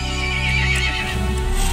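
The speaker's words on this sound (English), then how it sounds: "The horse grew angry and summoned the other monsters." A horse neighs in the Resident Evil Village video game, a loud, close, drawn-out whinny with a strong harmonic tone lasting under two seconds.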